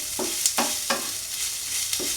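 Chicken keema sizzles in a hot pan with a steady frying hiss, while a spatula stirs it in four distinct scraping strokes, close and clear with no voices.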